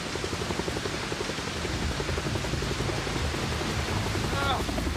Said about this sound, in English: We heard the heavy drum beat, the sound of a helicopter.